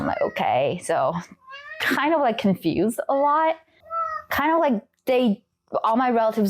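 A pet cat meows repeatedly at close range in short, rising and falling cries, interleaved with and overlapping a person talking.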